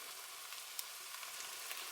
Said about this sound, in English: Oh, you hear it sizzling? That's the fish.